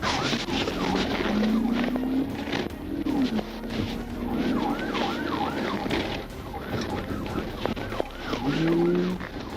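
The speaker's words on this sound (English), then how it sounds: "The car weaved through traffic" A car speeding through traffic during a police chase, with engine roar, rising and falling siren wails and road noise filling the clip, caught from a dashcam.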